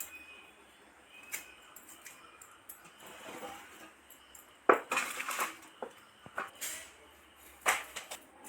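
Tender banana flower stem is finely chopped against a bonti blade in sparse, irregular crisp cuts and scrapes, a few sharper strikes standing out over a quiet background, with no speech.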